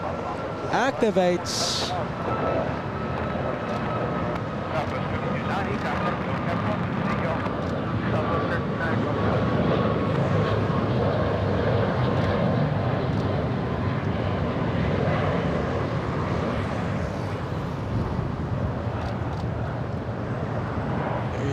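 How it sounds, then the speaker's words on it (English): A Southwest airliner taking off at LAX, its engines roaring as a broad sustained rumble that swells over about twenty seconds, with wind buffeting the microphone and a person speaking briefly over it. "Okay, we have Southwest taking off"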